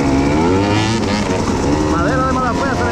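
An enduro motorcycle accelerates along a trail in Jarabacoa, its engine droning loudly and continuously with rising, revving pitch sweeps toward the end, while a person talks over it.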